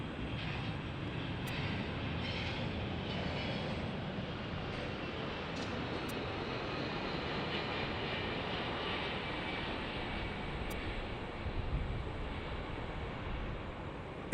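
A heavy airliner takes off at Los Angeles International Airport, giving a steady, broad jet roar that holds at an even, moderate level throughout with no talk over it.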